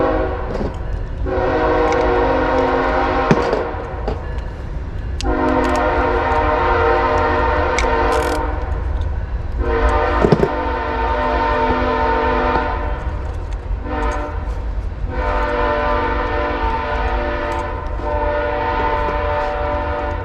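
Nearby train rumbles past steadily while its horn sounds in several long, loud blasts separated by short gaps, with low rolling noise underneath.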